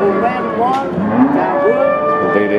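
Limousin cattle at a livestock market moo nearby in a couple of drawn-out, wavering calls, loud and close, with a brief spoken phrase alongside.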